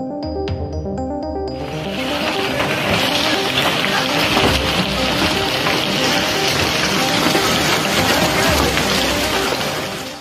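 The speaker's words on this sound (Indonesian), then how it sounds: "memperlihatkan detik-detik badai disertai es menerjang negara Spanyol" A hailstorm batters an area in Spain: after a brief tonal sound at the start, a dense, loud, continuous pounding roar of hail takes over and holds steady until it tapers slightly at the very end.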